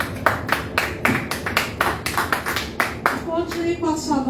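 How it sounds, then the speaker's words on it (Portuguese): Church congregation clapping hands in praise, a run of loud, rhythmic, unison claps about twice per second, then a voice starts speaking at the end. "Aplauda o Senhor."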